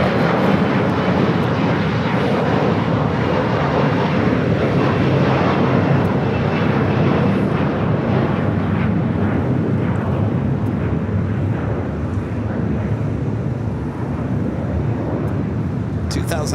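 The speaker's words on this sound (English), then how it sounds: "let's go to the heavy about to arrive here on the south side. Turkish A350-900." A Turkish Airlines Airbus A350-900 heavy jet arrives on the south side of Los Angeles airport, its engines a loud, steady broadband roar that holds throughout with little change.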